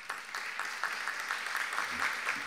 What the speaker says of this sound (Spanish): para quienes pido el aplauso de todos ustedes